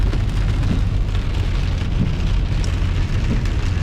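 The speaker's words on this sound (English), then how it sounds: "I know you can hear that. It's the rain." Heavy rain falls steadily on the Sacramento River during a fishing trip, a dense, loud, unbroken patter of drops close by, with no talk over it.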